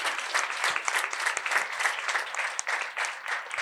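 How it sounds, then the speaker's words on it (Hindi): Congregation clapping during a church service, a dense, steady crowd applause with a loosely rhythmic pulse of many hands, sustained throughout. "सो खुदा के बच्चों, जोरदार ताली बजाइए खुदा के जलाल के लिए।"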